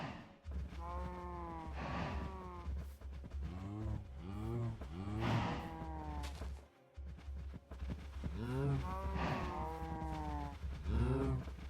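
Cows in the Minecraft video game moo repeatedly, several drawn-out lowing calls in a row with brief pauses between, fairly clear over a low steady background hum.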